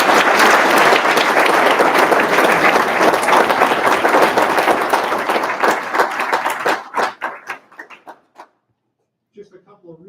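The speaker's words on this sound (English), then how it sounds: "how about a round of applause for all three of our" Audience applause at a police chief candidate forum, a dense burst of clapping from a crowd that holds steady for several seconds, then thins into scattered claps and fades out near the end.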